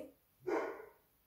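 A single sharp dog bark indoors, brief and moderately loud, rising out of near silence in a home sewing setting.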